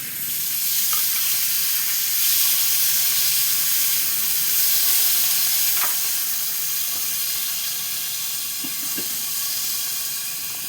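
Shrimp coated in turmeric, salt and dry chili powder frying in a pan, giving a steady, fairly loud sizzle and hiss throughout with a few faint clicks and no talking.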